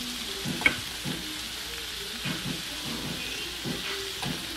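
Vegetables frying in a pan for shrimp and grits give off a steady close sizzle and hiss, broken by repeated stirring scrapes and a single sharp clink.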